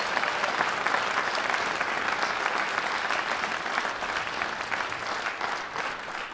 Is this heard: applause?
yes